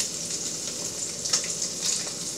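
Rockfish searing in a pan gives a steady, bright, close sizzle of hot oil that holds evenly throughout, with no talk.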